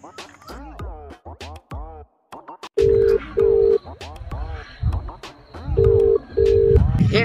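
Phone ringback tones repeat in pairs, clear steady beeps from a call that goes unanswered, interleaved with a woman's animated speech and background sounds.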